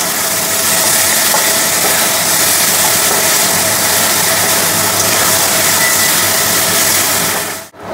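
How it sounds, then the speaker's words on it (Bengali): Garlic and green chilli paste masala fries in a pan for a mutton curry, giving a steady, loud sizzling hiss that runs unbroken and close before cutting off abruptly at the end. "এবার ভালো করে মশলাটা কষবো।"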